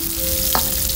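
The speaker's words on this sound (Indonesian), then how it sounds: "setelah itu kita masukkan cabai keritingnya. Kita tumis lagi ya." Curly chili peppers are stir-fried in a hot pan for Indonesian fried rice, giving a loud, steady sizzle with a brief scrape of stirring midway.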